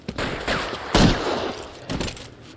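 Several gunshots crack out in a close-range shootout in L.A. Noire, three or four loud reports in quick succession with echoing tails, no voices over them.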